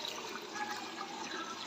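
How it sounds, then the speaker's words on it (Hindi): A cup of water is poured into a cooking pot holding whole spices for chicken korma, giving a steady, soft splash and trickle that stays even throughout and stays fairly quiet. "पानी डालेंगे 1 कप।"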